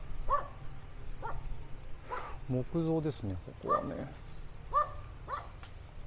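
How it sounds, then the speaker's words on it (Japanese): Guard dogs in a cage bark along a residential street in Dumaguete, Philippines, a few sharp barks scattered under a man's close, steady talk. "めっちゃ番犬に吠えられてます。"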